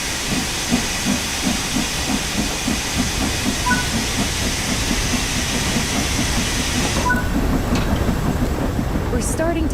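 Steam locomotive in the Train Sim World 4 simulator, chuffing in a steady rhythmic beat with continuous steam hiss, running close and loud throughout with a brief whistle-like tone near the end.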